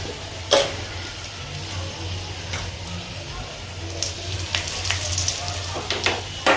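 Curry leaves and a little turmeric tempered in hot oil give a steady, close sizzle and crackle with occasional stirring clinks and a low background hum throughout.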